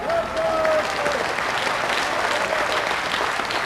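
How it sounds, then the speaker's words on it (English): Supporters applaud loudly and steadily at a 1993 lawn bowls ladies final in Waterloo, with dense, sustained clapping from the crowd throughout. "Big round of applause from her supporters."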